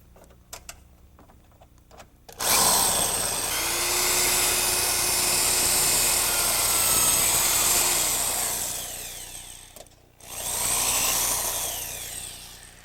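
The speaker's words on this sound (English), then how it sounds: "we're going to try to drill this out" A power drill whines at high speed as it bites into metal, drilling out a screw on a car, running steadily for several seconds, stopping, then starting again briefly.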